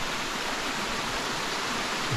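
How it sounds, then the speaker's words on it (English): Water runs down toward Cascade Falls on the Weathersfield Trail up Mount Ascutney, a steady, even hiss of a stream and waterfall, close and without voices. "This is the lead into the Cascade Falls."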